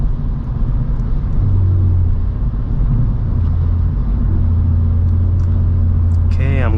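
Kia Stinger GT2 with a Borla active valve exhaust cruising in 8th gear at low revs, a steady loud droning rumble with road noise throughout and a brief higher sweep at the end.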